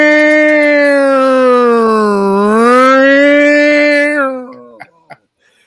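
A person imitates a siren with a loud, sustained voiced wail that dips and rises in pitch for about four seconds before trailing off, followed by a couple of brief sounds in the quiet.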